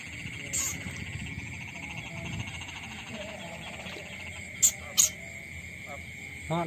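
A small frog croaks near a rat trap in a rice field at night, giving a few sharp calls over steady insect and frog chorus background noise.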